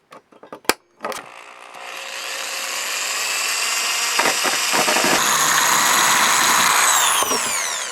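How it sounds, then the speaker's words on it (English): A few sharp clicks and taps come first, then a power drill with a 3/16 inch bit spins up and whines steadily for several seconds during a repair on a 2002 Volvo V70 rear seat locking mechanism. "and then a larger drill bit. This is a 3/16 inch to follow that"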